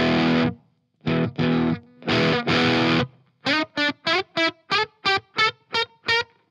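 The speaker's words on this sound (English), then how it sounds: "Then I go into this Messner, I've got the Walrus Messner and the Walrus Descent. And this is a drive pedal" A 1970 Les Paul electric guitar played through a Walrus Messner drive pedal, giving a driven, slightly gritty tone: a few sustained chords, then a quick run of about ten evenly spaced plucked notes, close and clear.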